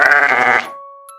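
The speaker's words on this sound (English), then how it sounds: "The fluffy friend sheep says, ba, ba." A sheep gives one loud, close bleat lasting about half a second with a wavering, nasal tone, then it stops abruptly, leaving a faint lingering tone.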